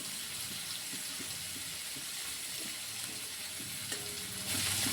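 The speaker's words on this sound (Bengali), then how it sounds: "একটু তেলে নাড়াচাড়া করে নেব" Food sizzles quietly in hot oil while being turned over and stirred in a pan, a soft steady hiss with faint scraping touches, growing brighter and louder in the final moment.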